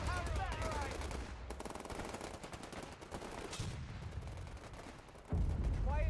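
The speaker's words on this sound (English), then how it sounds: "At least we got the mortars firing on them." Mortar and gunfire in the WWII strategy game Company of Heroes 3, Italian invasion battle: rapid crackling bursts and distant booming thuds, moderately loud, continuous battlefield din.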